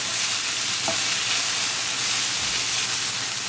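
Taro root sabzi with fresh cilantro sizzles steadily in a pan while being stirred, a continuous close frying hiss with soft scraping movements and no talking.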